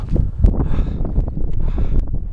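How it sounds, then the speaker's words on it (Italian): Strong wind on a high mountain pass during a trail race, roaring and buffeting loudly against the microphone in continuous gusts. "Vento forte."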